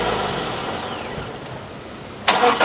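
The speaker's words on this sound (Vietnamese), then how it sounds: "Động cơ rất là khó nổ luôn." A 2010 Kia Carnival with a hard-starting engine: a rough, noisy engine sound continues near the microphone, ending in a sudden louder burst near the end, with no talking.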